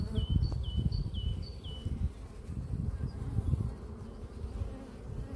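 Dense, low buzzing of many agitated honeybees swarming close by at their hive, a constant drone, with a few bird chirps faintly in the background early on.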